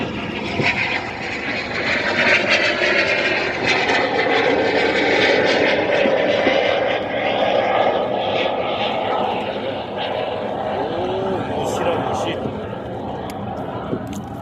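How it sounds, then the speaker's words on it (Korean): A fixed-wing airplane drones steadily overhead for the whole stretch, loud and sustained, heard from a boat while fishing for webfoot octopus, with people talking over the engine noise. "아이고 비행기가 날아가네 비행기"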